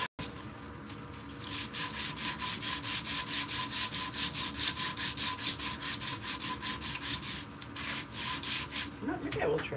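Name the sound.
sanding a forged spoon with sandpaper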